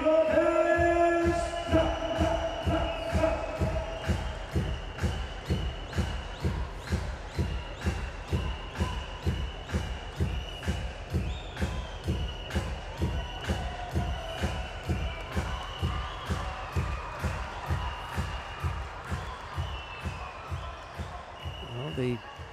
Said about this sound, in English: the Azeri crowd cheering for their man